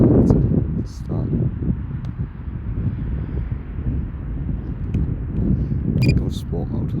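Heavy night wind buffeting a microphone outdoors near a small DJI Mini drone, rumbling in uneven gusts with someone talking over it and brief high chirps.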